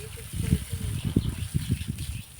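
Water splashes and trickles in uneven bursts close by, as if something is being rinsed and rubbed under a flow.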